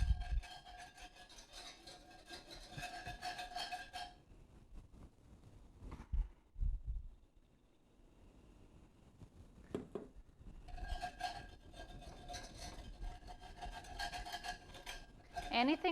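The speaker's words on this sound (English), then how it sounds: "I'm just going to scrape the bottom of this pan, kind of deglaze it a little bit." Whisk scraping the bottom of a pan to deglaze and lift browned bits, a faint, rough rasping rub in two long stretches with a quieter pause between and a few soft clinks.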